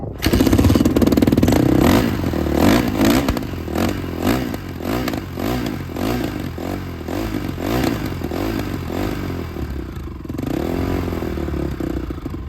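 A cold Honda CRF450 dirt bike engine runs close by, a loud, rough, rapidly pulsing idle with clattering mechanical noise and a few blips of revving.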